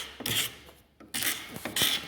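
A chisel scrapes along the curved surface of an imbuia wood bench in bursts of dry rasping strokes, with a short pause between them.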